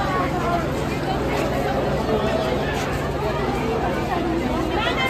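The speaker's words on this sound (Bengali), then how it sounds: "ভিড়টা দেখো বোলপুর শান্তিনিকেতনের।" A crowd at Bolpur Shantiniketan railway station, a steady babble of many voices and general bustle, continuous and fairly loud throughout.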